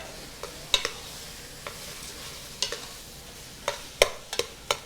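Ground beef browning in a pan for a Bolognese sauce, with soft sizzling under scattered sharp scraping and tapping of a utensil pressing and stirring the meat, close up and without talk.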